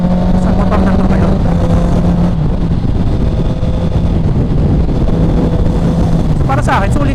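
A Honda CB650R motorcycle with a quick shifter accelerates hard, its engine note rising loud and close, then dipping briefly at a gear change and climbing again amid heavy wind buffeting.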